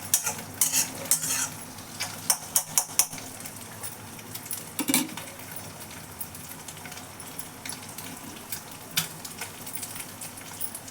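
An egg fries in a pan for egg fried rice under a soft sizzle, with bursts of scraping and clinking from a utensil against the pan, busiest early and again near the middle.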